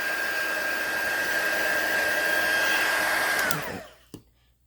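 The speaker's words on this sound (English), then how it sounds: "turn your heat tool off" A heat tool melts embossing powder with a steady, loud blowing whir that holds for about three and a half seconds, then winds down and stops, followed by a brief clunk.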